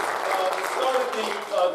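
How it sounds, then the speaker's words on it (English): Steady applause from a lecture audience fills the short moment, a continuous clapping texture with faint voices underneath. "Let's give him a round of applause."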